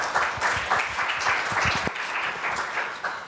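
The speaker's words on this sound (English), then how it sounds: "So please, a round of applause for Mavi." An audience applauds after a keynote introduction, with dense, steady clapping that carries at full strength and then thins slightly toward the end.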